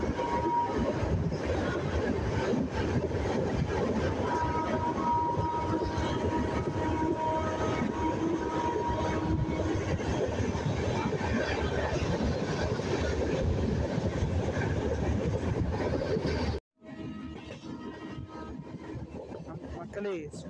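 A Pondy–Mangaluru weekly express with new LHB coaches rumbles past near Salem, a loud steady roar of wheels and carriages for about seventeen seconds before cutting abruptly to quieter ambience.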